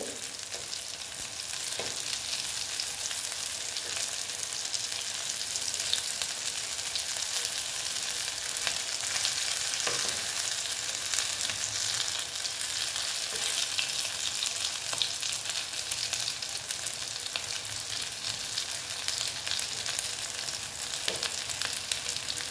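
Soya chunk kofta balls frying in hot oil, a dense, continuous bright sizzle holding steady for the whole stretch, with occasional faint clicks from a utensil and no voices.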